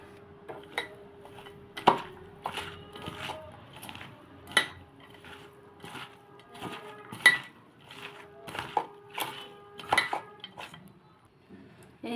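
Gourd slices are mixed with turmeric in a bowl, with irregular clinks and knocks of a utensil against the bowl spaced a second or two apart over quiet.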